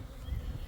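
Honeybees from a five-frame nucleus hive make a faint, low, continuous buzzing hum during a brief moment of hive installation.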